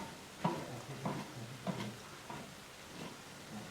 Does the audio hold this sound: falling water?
no